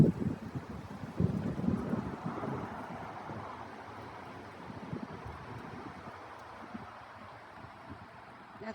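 Wind blows outdoors during a winter wind storm, making a broad rushing roar that gusts strongest early on and then settles into a steadier, softer blow, with no one talking.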